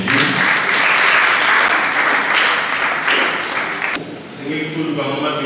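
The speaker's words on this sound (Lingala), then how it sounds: "On acclame pour la parole de Dieu." A church congregation applauds loudly and steadily during a nuptial blessing, the clapping running under a voice and music before thinning out near the end.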